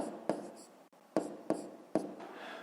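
Pen writing a comma and digits on paper during a fifth-grade decimal maths exercise: a few short, close scratchy strokes with small taps in between, heard alone in a quiet room.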